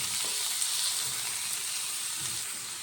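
Chopped onions and green chillies frying in a pan of oil for fish curry: a steady, loud sizzle continues throughout, with soft scraping stirs underneath.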